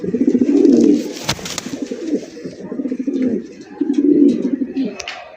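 Large black Lahori pigeons coo in a farm loft, a steady rolling cooing that swells and fades in waves, fairly close, with a sharp flutter or clap in the middle.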